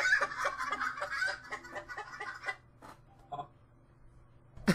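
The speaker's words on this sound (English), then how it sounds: "I don't think he appreciated the chicken sound effects." Chicken clucking sound effects in a video game, a rapid run of bright clucks in the first couple of seconds, then a few isolated clucks trailing off into quiet.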